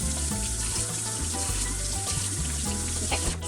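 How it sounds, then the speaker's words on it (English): Running tap water pours steadily into a kitchen sink as potatoes are rinsed, a continuous close splashing wash with some low background music underneath. "Give them a little quick rinse."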